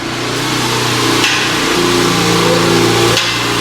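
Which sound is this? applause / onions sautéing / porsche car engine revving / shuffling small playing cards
porsche car engine revving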